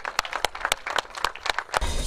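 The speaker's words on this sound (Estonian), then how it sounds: "Aplaus ka 65. masinaklassi 3 kiiremale" An outdoor crowd at a motocross race claps for podium riders, a loose, uneven applause of sharp individual claps spread over a couple of seconds.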